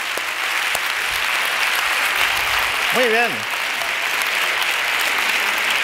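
Steady, dense applause from a conference audience fills the whole stretch, with a brief spoken phrase rising over it midway.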